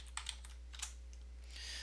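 Computer keyboard typing, a few quick light keystrokes followed by a short soft rustle, close but faint over a low steady hum.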